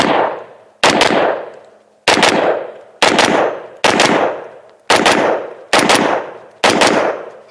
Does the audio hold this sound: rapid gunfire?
yes